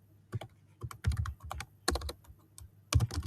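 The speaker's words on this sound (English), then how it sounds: "And then I'm going to type subscribe" Keys clack on a computer keyboard while HTML is being typed, coming in short irregular bursts of close, crisp clicks separated by brief pauses.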